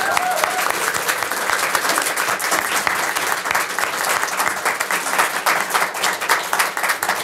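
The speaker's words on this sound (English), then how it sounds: "I actually want to start with a round of applause for the student homecoming writing awards" A seated audience gives a steady, sustained round of applause for student homecoming writing award winners, with dense, even clapping filling the room from start to finish.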